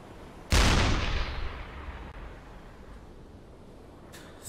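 A single loud burst of deck-gun fire against a ship in the submarine game Uboat, a sharp blast trailing into a long fading rumble, with a faint second report just starting near the end.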